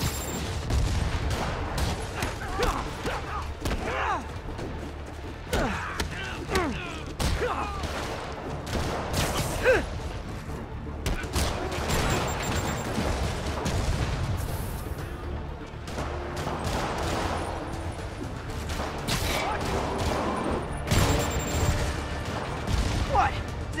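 Rockets explode in Marvel's Spider-Man Remastered gameplay: dense, continuous booms and crackling blasts layered with gunfire-like bursts, loud and close throughout, with voices talking over the action.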